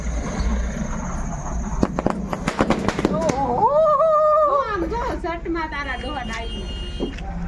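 Diwali firecrackers bursting outdoors, a rapid string of sharp cracks and pops up close, with a whistling, warbling firework and people talking over the noise.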